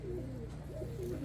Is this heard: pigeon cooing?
yes